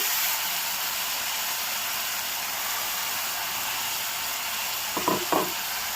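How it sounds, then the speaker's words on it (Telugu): Tomato paste frying in a pan for chicken fry piece biryani gives a steady, close hiss and sizzle, with a couple of short stirring scrapes near the end and no voices. "ఇప్పుడు ఇది వేగిపోయినాయి ఇప్పుడు మనం టమాటా పేస్ట్ వేసుకుందాము"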